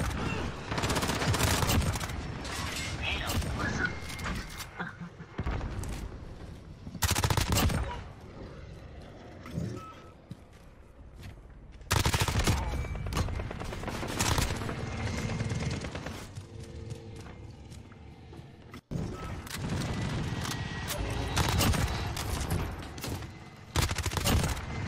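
Pistol fire in the Call of Duty Shoothouse map, loud close bursts of repeated shots in several dense clusters separated by quieter gaps of game noise, with a voice talking faintly at times.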